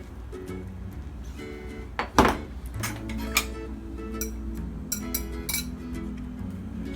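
Hot cooked noodles are tipped into a bowl of heated tofu, giving a sharp clink of utensil against the bowl and a few lighter taps and soft sliding sounds at close range, with no talking.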